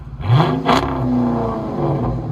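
A 2006 Chrysler 300C with a 5.7L HEMI V8 and dual exhaust fitted with Dynomax race bullets revs sharply twice, a loud nearby rumbling roar that settles into a throaty idle.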